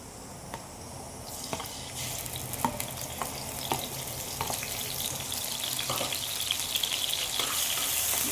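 Grated carrot sautéing in hot ghee in a kadai for carrot kheer gives a close, continuous sizzle that grows louder, with sharp scrapes and taps of stirring, no talk.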